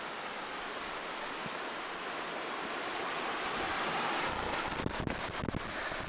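Steady broadband wind roar with a rushing, rain-like hiss on a lake, swelling louder toward the end with a few gusty buffets on the microphone.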